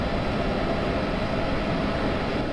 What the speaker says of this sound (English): Driving, congratulations, you are driving the locomotive.